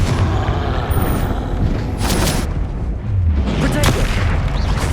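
Confringo blasting spell explosions in Hogwarts Legacy: loud booming bursts over dense game combat noise, with a couple of sharper blasts.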